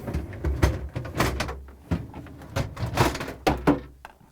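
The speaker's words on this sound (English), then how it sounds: "I'm now going to pull out both crisper drawers." Crisper drawers on a Samsung refrigerator are pulled out, with a series of close, irregular plastic slides, knocks and thunks, some sharp and some muffled, and brief quiet gaps between them.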